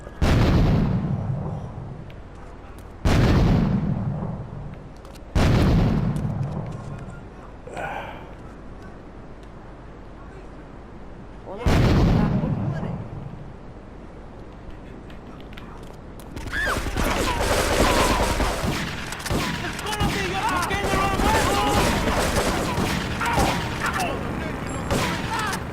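In GTA3, hand grenades go off in a string of loud, near booms with ringing decay, four or five spaced apart. A dense burst of rapid gunfire and crackling follows, and someone talks over parts of it.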